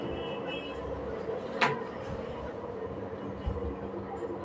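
Steady rumble of a train at a railway station, with a continuous low drone, a sharp hiss or screech near the middle and faint knocks, no one talking.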